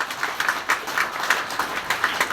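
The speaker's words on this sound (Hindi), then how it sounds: "आप सब अचीवर्स के लिए जोरदार ताली हो जाए" Audience applause for achievers honored at a DXN business event, a steady patter of many hands clapping with small surges, fairly close and without talk over it.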